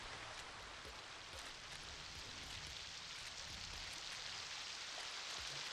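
Rain falls near a beach as a soft, continuous patter and hiss, faint and even throughout with no voices.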